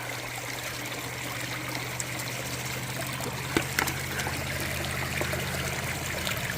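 Water runs steadily through a gold sluice box outdoors, a continuous close trickling and burbling flow with a faint low hum beneath and a couple of small knocks, no talk.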